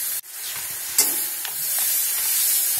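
Bean pods and coconut stirred in a frying pan, a soft continuous sizzle with faint scraping strokes of the spoon, close and alone without any voice.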